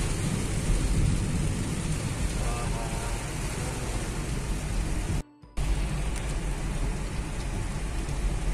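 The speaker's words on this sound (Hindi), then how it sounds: "जस्ट पीछे कुछ नहीं था और यहाँ आते से ही एकदम तेज बारिश मिल गई।" Heavy monsoon rain roars steadily and loudly throughout, with a brief drop-out partway through, and no clear talking, on a car road trip through Tamhini Ghat.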